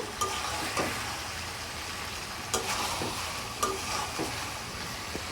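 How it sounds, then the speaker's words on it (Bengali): Spicy chicken curry being fried and stirred in oil, a continuous crackling sizzle broken by several sharp spatula scrapes against the pan, close and alone without talk. "একদম ভাজা ভাজা করে কষায় নিচ্ছি"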